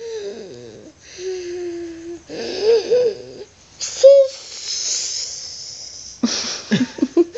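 A young girl imitates her grandfather snoring with drawn-out wheezy, hissing breaths and nasal snorts, close and fairly loud, mixed with short vocal sounds.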